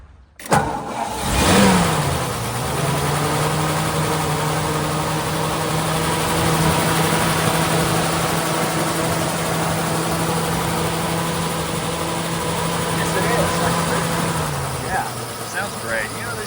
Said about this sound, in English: I love the look of that Flathead V8. Oh. It's just a beautiful motor. Let's start it up.